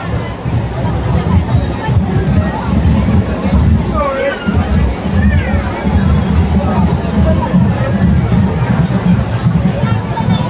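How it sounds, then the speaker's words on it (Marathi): Pilgrims throng the Ekvira temple steps in a thick crowd, a loud, unbroken hubbub of mingled voices all around, with a brief lull near the middle before the chatter swells again. "कसली गर्दी आहे बघ."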